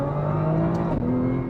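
A Nissan R35 GT-R NISMO with 150,000 miles and a rebuilt transmission accelerates hard, its engine holding a steady, loud droning whir with a brief dip near the middle.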